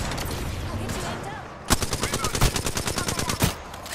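Apex Legends gunfire comes as a rapid, loud burst of automatic shots lasting about two seconds, preceded by quieter game ambience, with a brief pause before a final shot.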